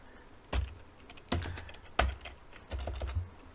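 A few distinct clacking strokes on a computer keyboard come in irregular clusters, close and fairly loud against a quiet background.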